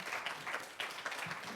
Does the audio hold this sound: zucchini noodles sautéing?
no